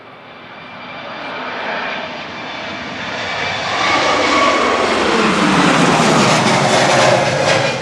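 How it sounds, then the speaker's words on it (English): A Royal Jordanian airliner departs Manchester Airport, bound for Oman. Its jet roar builds steadily from a moderate rumble to a loud, sustained broadband rush that holds strong through the end, with no voices over it. "Here goes Royal Jordanian, heading back to Oman."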